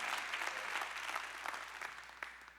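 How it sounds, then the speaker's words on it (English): Church congregation at an inspirational message bursts into applause, a dense wash of many hands clapping that holds steady and then thins out toward the end. "Clap your hands loud like you get this."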